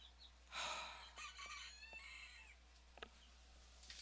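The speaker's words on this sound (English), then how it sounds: "I'm gonna choke out this rooster that's by my window though" Rooster crowing just outside a window, one loud full crow followed by softer clucks and short calls, fairly close and alone over a quiet indoor hum.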